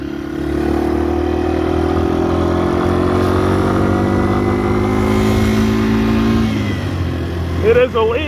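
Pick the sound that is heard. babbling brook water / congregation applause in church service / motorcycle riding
motorcycle riding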